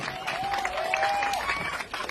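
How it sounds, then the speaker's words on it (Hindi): Applause for Mahua Moitra at a CJP protest rally, steady clapping from an audience filling the whole stretch at moderate level, with a faint sustained tone running over it. "एक बार फिर से जोरदार तालियां हो जाए महुआ जी के लिए।"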